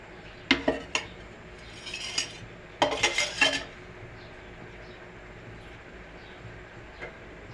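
Clinks and scrapes of a pan and utensil as oil goes in for popcorn, a quick cluster of metallic taps followed by a longer rattling burst, then sparse faint knocks.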